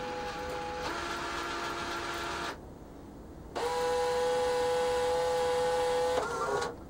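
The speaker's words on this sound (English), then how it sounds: "So we can hear everything initializing" A Crane Merchant or Bev Max vending machine powers up and initializes while loading new firmware, giving steady electronic hums and tonal whines that cut out briefly, then return louder and continuous, with no talking.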